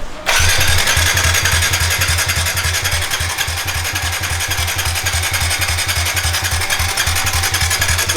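A Kawasaki KLX 110L motorcycle is started with its electric start, the engine catching right away and running loudly and steadily at a rough, pulsing idle for several seconds, close up and with no talk.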